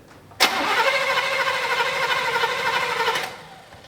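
A V8 engine in a Buick LeSabre left unused for 34 years cranks abruptly and whirs rapidly for about three seconds before cutting off, loud and close.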